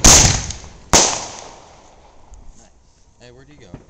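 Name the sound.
neighbors' fireworks artillery shell exploding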